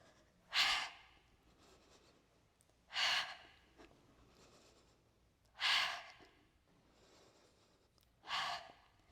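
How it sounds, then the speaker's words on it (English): A person exhaling hard and audibly during a Wall Pilates and weights workout: four strong, evenly spaced breaths a couple of seconds apart, close to the mic, with quiet in between. "if you can hear my breath, I want you to make sure that you can hear your own breath. Audible exhales."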